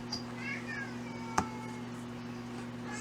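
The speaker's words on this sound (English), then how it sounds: "Sorry about my cat." A house cat meows a few faint, drawn-out times in a quiet room at night, far from the listener, over a steady electrical hum with a single soft knock in the middle.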